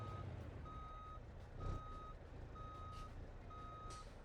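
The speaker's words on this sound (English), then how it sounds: "turn that beeper off" Reversing beeper on a big tow truck in the BeamNG driving game, a steady series of evenly spaced electronic beeps repeating about once a second over a low engine rumble.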